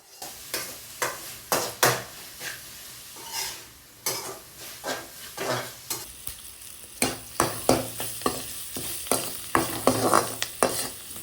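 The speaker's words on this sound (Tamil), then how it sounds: "அதுக்கப்புறம் காய் தான் ரொம்ப நேரம் வதக்கிட்டு இருந்தேன்." Cluster beans sautéing in a pan in a home kitchen: steady frying sizzle with repeated scraping stirs and occasional clinks of a utensil against the pan, close and fairly loud, no talking.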